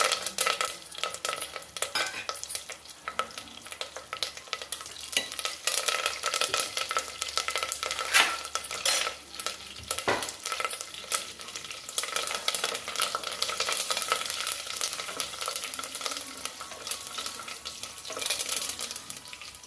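Mustard seeds, cumin, fenugreek, urad dal and curry leaves fry in hot tempering oil for a spiced buttermilk curry, a steady bright sizzle and crackle running throughout with occasional stirring scrapes, close and continuous.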